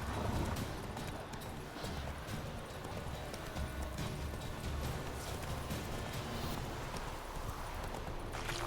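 A horse gallops in The Witcher 3, its hoofbeats a continuous, fairly loud clatter over a dense background wash, with no speech.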